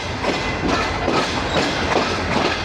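Bulleh Shah Passenger train slowly leaving the Lahore Junction yard past the washing lines: a continuous, fairly loud rolling rumble with rhythmic clickety-clack of wheels over rail joints, heard from on board, no talking.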